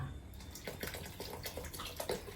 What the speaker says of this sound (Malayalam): അപ്പൊ നമ്മൾ ഇതിലേക്ക് കുറച്ച് വിനാഗിരിയും കൂടി ഒഴിക്കുന്നുണ്ട്